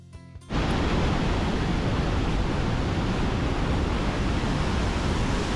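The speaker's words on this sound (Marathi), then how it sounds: "चला आता हा धबधबा जवळून बघूया." Lundbreck Falls, a waterfall near the American border, sends up a loud, dense roar of rushing water. The roar starts abruptly after a brief quieter moment, then stays steady and close with no voices.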